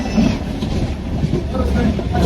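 A local train running between Latur and Pune, a steady low rumble with faint clatter filling the whole moment while a voice talks over it.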